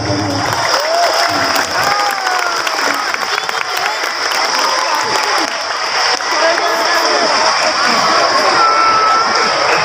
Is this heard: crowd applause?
yes